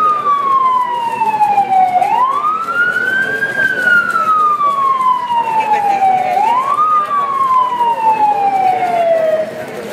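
An emergency vehicle siren wails steadily at a memorial ceremony, a loud sweeping tone that rises and falls in long slow cycles with traffic rumble beneath.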